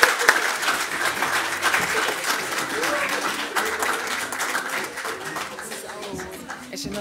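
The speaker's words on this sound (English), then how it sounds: "A round of applause for her." Sustained applause fills an awards ceremony for journalists in Namibia, with a dense crowd clapping steadily throughout at a fairly constant level.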